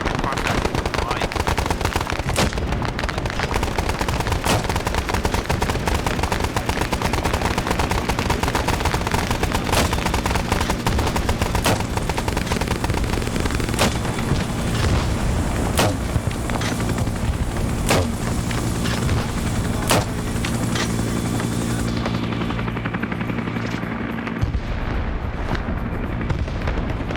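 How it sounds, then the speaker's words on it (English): Sustained battlefield din from the Vietnam-era video game Arma 3 SOG Prairie Fire: dense, continuous machine-gun bursts and gunfire layered with booming explosions, loud and relentless throughout, easing slightly near the end. "What on earth is exploding?"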